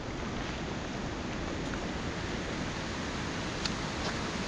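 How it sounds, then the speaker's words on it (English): A waterfall at Gayle roars as a steady, dense rush of falling water. The noise is even and continuous throughout, with no voices. "But this is a nice waterfall."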